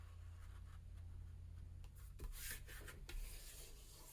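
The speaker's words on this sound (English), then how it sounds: "I'm just folding my paper in half and then folding each half into itself" A sheet of paper is folded and creased close by, making soft rubbing and sliding sounds followed by a few sharper crisp swipes as the fold is pressed flat, quiet and over a low steady hum.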